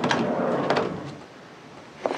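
A jammed door is forced open with a rough rattling, scraping burst, then a quieter stretch and a short sharp knock near the end, close by with no talking.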